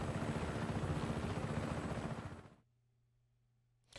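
A helicopter in the video game Just Cause 3 roars with dense rotor chopping and engine noise, loud and close, then cuts off abruptly into near silence with a faint low hum.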